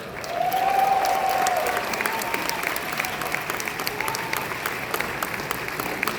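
A convention hall crowd at a Batman: Hush panel at San Diego Comic-Con 2019 breaks into sustained, loud applause with scattered cheers and whistles, steady throughout with no speech.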